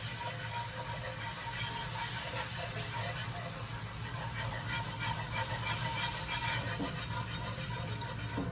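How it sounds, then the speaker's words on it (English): Broth is poured gradually into a pan of meatballs in cream sauce, giving a steady broad hiss and gentle liquid rush that runs continuously at moderate level, with faint background hum. "now we are going to add in our broth. This is 14 ounces, and we're going to add it gradually."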